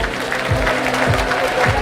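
Audience at a Rotary district conference in Naivasha, Kenya, applauds the guest of honor, a loud, steady clapping crowd with a few rhythmic thumps and a voice speaking over it.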